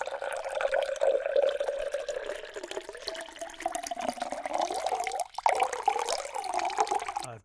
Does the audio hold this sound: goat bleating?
no